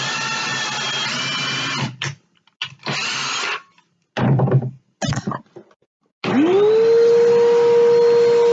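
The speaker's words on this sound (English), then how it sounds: "I'm just drilling the pilot hole." Several bursts of a power drill whirring at close range while drilling a pilot hole in a laptop stand, stopping and starting, ending in a long steady run as the motor spins up.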